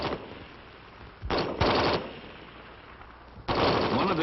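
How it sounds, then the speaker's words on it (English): An M14 rifle chambered for 7.62 mm ammunition firing on full automatic, heard as three separate loud bursts of rapid shots with short gaps between them. "By turning the selector to full automatic, fire is continuous as long as the trigger is held back and there are rounds in the magazine."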